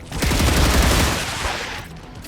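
A weapon in the sci-fi video game StarRupture fires a rapid, loud burst of shots that rattles for about a second, then fades into a softer tail.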